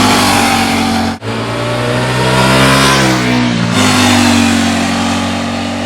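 A loud KTM RC8 motorcycle's 1158cc 75-degree V-twin revving close by, pitch climbing through a few rising pulls with brief drops between, steady throaty roar.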